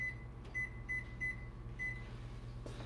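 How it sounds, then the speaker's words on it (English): An oven timer is set in a home kitchen: a series of short, sharp electronic beeps, about five in irregular succession, close and clear over a low appliance hum. "So I'll leave a timer on here."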